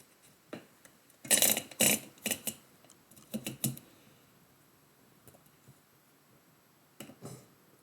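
Typewriter keys striking in short irregular bursts, a quick cluster of crisp clacks followed by scattered fainter taps and pauses, fairly close and with no talking.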